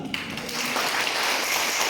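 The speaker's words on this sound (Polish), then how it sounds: "jeszcze raz gratulacje i wielkie brawa dla Państwa" Audience applause at a golden wedding anniversary celebration in the Nieborów municipality, a brief burst of many hands clapping that swells quickly and continues steadily.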